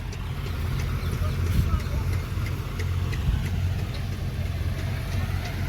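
A tractor engine runs steadily at a low rumble while pulling a boring machine stuck in mud, a continuous mid-distance drone with light knocks; a person talks over it.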